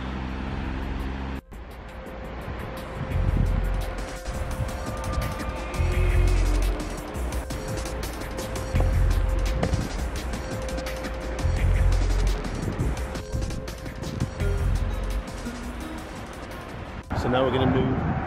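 Steady engine and road noise from a car driving along a road in Muscat, Oman, a continuous hum with someone talking over it throughout.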